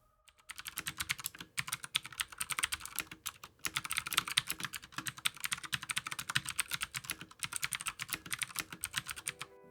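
Rapid, steady typing on a HyperX Alloy FPS mechanical keyboard, close up, with crisp clacking keystrokes running continuously after a brief pause at the start.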